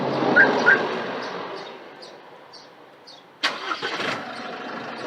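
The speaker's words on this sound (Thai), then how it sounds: "สตาร์ทเครื่องได้" A 2022 Isuzu D-Max pickup truck engine with push-button start cranks briefly and catches, settling into a steady idle after a moment of quiet, with a couple of soft beeps earlier.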